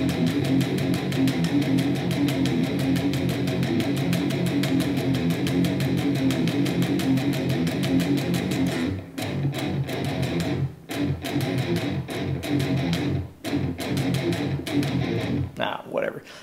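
Electric guitar plays a metal riff, a dense, rapid chugging pattern with quick position shifts, loud and steady for about nine seconds, then broken by short choked gaps and stops.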